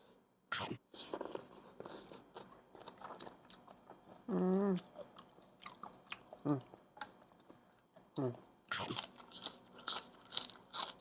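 Crunchy bites and chewing of spicy pounded rice-field crab and fresh shrimp salad eaten with raw winged beans, close and intermittent, with someone talking between mouthfuls.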